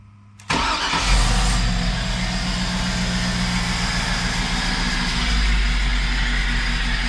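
A 1956 pickup truck with its engine on a Yukon frame swap cranks and catches after a brief quiet moment, then settles into a loud, steady, deep-rumbling idle close by with no talking.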